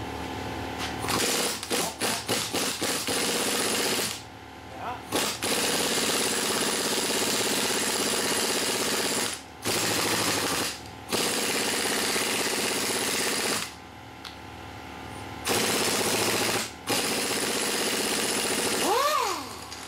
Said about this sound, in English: we'll see if 60 psi is enough to bust this nut off